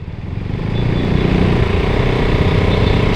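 A KTM RC 200 sport motorcycle engine runs steadily nearby, a dense low rumble with a slight rise in loudness partway through, no talking.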